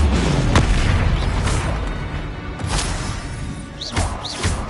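Repeated Confringo blasting-spell explosions in the Hogwarts Legacy video game, several loud booms and crashes with whooshing bursts in quick succession, close and forceful.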